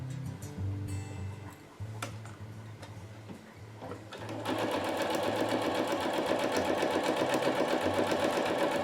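A sewing machine hems Hyper D nylon ripstop for an ultralight hammock, starting with a few short stitching bursts and then running in a steady, fast, close rhythmic whir with tension set high.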